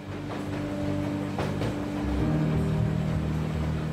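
Steady rumble of a train rolling along in World of Goo 2, with a low droning hum, faint rhythmic clatter and a few tonal whines, continuous and fairly close.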